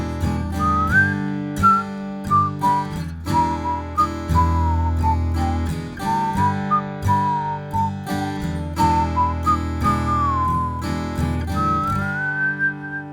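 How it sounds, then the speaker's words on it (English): A person whistles a wandering melody over a rhythmic instrumental backing, the tune clear and close. "Not the best whistling in the world,"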